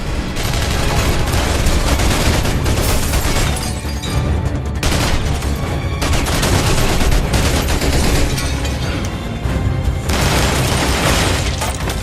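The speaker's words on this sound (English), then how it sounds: "Seconds later, the building erupts into gunfire as Wax tears through the operation" Dense, loud gunfire rattles continuously in rapid bursts, with booms and crashing debris mixed in, nearly without pause.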